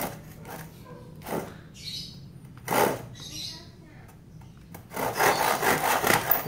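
A beginner's hand saw cuts very dry wood. A few scattered rasping strokes give way to a quick, steady run of louder back-and-forth sawing near the end.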